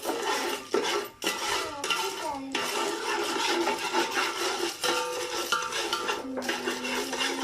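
Popcorn kernels are stirred in a pot, producing close scraping and rattling of hard kernels against metal in uneven bursts with short pauses between strokes.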